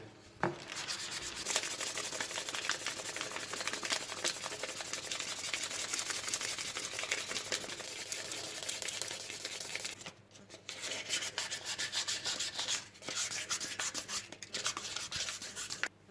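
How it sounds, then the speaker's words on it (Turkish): Steady scratchy rubbing of fine 800-grit sandpaper against a steel knife blade, continuous back-and-forth strokes with a couple of brief pauses, close and fairly quiet. "Evet ince zımparayla zımparaladık."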